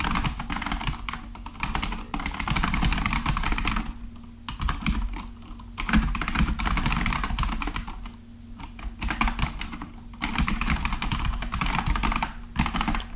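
Code is typed on a computer keyboard during a live coding session, with bursts of rapid key clicks separated by short pauses, close and clear, with no talking.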